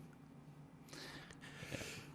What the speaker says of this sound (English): You had to sneeze right into the microphone?